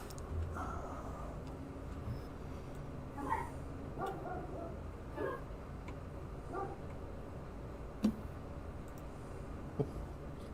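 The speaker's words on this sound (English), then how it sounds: "Is that Brad's mom herding dogs" Dogs being herded down a hallway bark and yip faintly and far off, scattered short calls over a quiet background hum.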